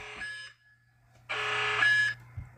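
Electronic intruder alert alarm on a homemade My Little Pony arcade, giving two loud sustained buzzing blasts with a steady low hum running beneath and a brief gap between them.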